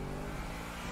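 A car engine revs and accelerates in the video game GTA V Online, a steady, full mid-pitched roar heard close up and on its own with no talking.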